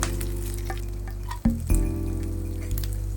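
Fennel, curry leaves, dried and green chillies and chopped garlic fry in hot oil in a pan, a close, steady sizzle with a brief stirring clatter midway.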